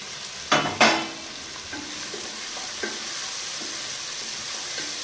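Cluster beans frying in a pan, two sharp scraping stirs near the start, then a steady close sizzle with a few lighter clinks of the spoon, no talking.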